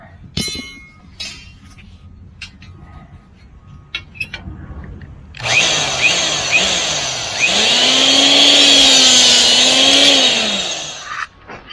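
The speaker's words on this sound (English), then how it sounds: "I like these cutters. We can do 2 rods at a time." Rebar cutters slicing through two steel rebar rods at once on a concrete job: a loud, sustained power-tool whine with a rising and falling tone kicks in midway, after a few seconds of quiet clicks and handling noise.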